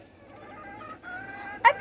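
Hens in a backyard coop, including a frizzle, give a few short, close clucks near the end of a quiet moment, following soft background murmur.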